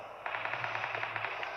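Rapid automatic gunfire in a video game battle royale match, a steady burst of regularly spaced shots starting a quarter second in and running to the end, moderately loud over a low background hum.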